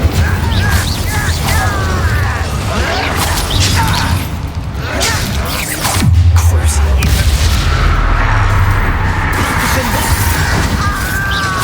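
Incendio fire spell cast in Hogwarts Legacy, a dense, loud burst of fiery whooshes and booms within continuous combat effects and music, with shouted voices mixed in.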